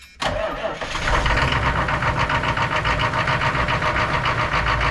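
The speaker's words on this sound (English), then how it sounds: "we're just firing the bus up" A bus engine cranks briefly, then catches and roars into a loud, steady, rumbling idle with a rhythmic knock, close by and alone, with no talk.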